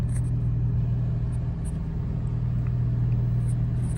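A Porsche accelerating under turbo boost gives a deep, continuous engine rumble heard from inside the car, steady and loud with faint intermittent high whistles above it.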